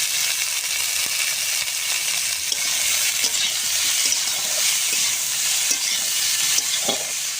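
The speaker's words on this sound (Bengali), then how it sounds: "সবুজ কপি আলুটা সুন্দর করে ভাজা হয়ে গেছে," Green cauliflower and potato pieces fry in a pan with a dense, even hiss of sizzling oil that lasts throughout, broken by scattered soft clicks from stirring, with no voices.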